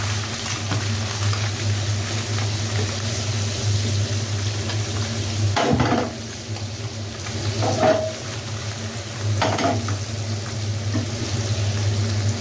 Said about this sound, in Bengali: এখন আমি এই যে তেলের মধ্যে ভেজে নিচ্ছি